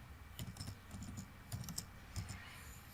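Someone types a search on a computer keyboard in short bursts of soft, quiet key clicks with brief gaps between them.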